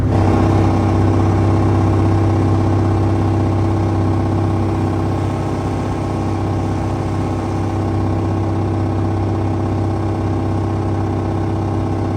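A vehicle engine runs steadily at about 1,900 RPM while travelling at roughly 20 mph on the road, a loud, continuous hum with a strong low drone throughout and no speech.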